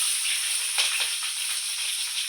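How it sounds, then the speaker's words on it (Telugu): Green chillies frying in hot oil give off a steady, bright sizzling hiss, with a couple of sharper crackling spurts midway, close and continuous. "ఇలా వేడైన తర్వాత ముందుగా మనం పచ్చిమిర్చి వేసుకుందాం"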